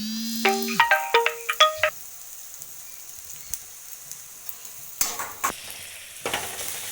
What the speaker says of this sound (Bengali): এবার রসুন বাটাটা দিয়ে দেবো।